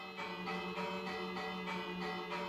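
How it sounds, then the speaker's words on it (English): Village bell in Minecraft ringing repeatedly in a steady rhythm, each clang ringing over the last with a sustained metallic tone, loud and close, with no talking. "if you ring the bell, doesn't everyone go in?"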